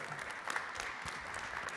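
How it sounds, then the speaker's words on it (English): Applause at a Catena-X release day presentation, a steady wash of clapping from an audience, moderately loud and continuous throughout with no voices over it. "Give an applause to Julia."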